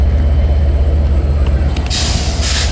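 At Santa Fe Depot station, an Amtrak Pacific Surfliner train sits under a deep low rumble while sharp air-brake hisses burst out twice near the end.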